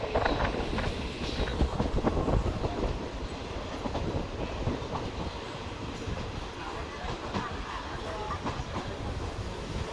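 An unreserved Tirunelveli–Sengottai express train is running along the line, heard from inside as a constant rumbling roar with rhythmic wheel clatter throughout. Quiet voices sit faintly beneath the train noise.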